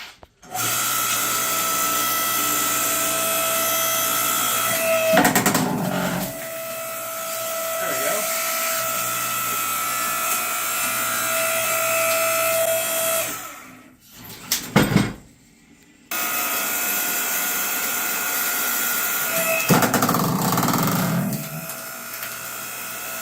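Harbor Freight 5-ton electric log splitter working on an 11-inch log round, a steady loud motor hum running throughout with a brief dip and clatter in the middle, then resuming.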